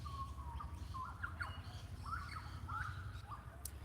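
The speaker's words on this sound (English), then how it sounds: "Actually, everything you hear is a bird of some kind." Several birds call outdoors in short chirps and whistled phrases, some rising and some falling, scattered across the span over a steady low rumble of background noise, with no voices.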